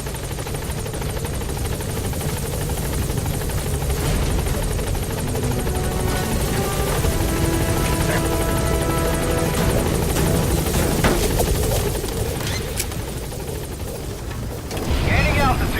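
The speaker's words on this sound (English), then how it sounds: "Support helicopter has arrived." Support helicopter in Metal Gear Solid V: The Phantom Pain: a loud, steady rotor thrum and turbine whine holds close throughout, with faint radio-style voices underneath and a brief rise in noise at the end.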